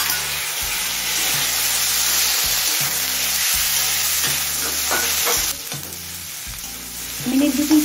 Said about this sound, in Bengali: মিনিট 2-3 সময় নিয়ে টমেটো নরম হয়ে আসা পর্যন্ত ভেজে নিলাম।